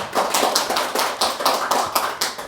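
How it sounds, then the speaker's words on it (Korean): Rhythmic clapping from a small audience at a Buddhist lecture hall, a run of evenly spaced, fairly close claps in a steady beat, fairly loud with no talking over it. "박수 한번 쳐주세요."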